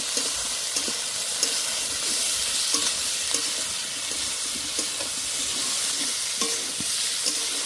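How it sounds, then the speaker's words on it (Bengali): Eggplant frying in a pan with salt and turmeric, a steady close sizzle with occasional scraping clicks as the pieces are stirred, no voices. "এবার ভালো করে ভেজে নেব।"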